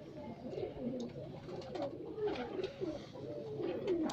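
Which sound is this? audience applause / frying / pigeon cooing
pigeon cooing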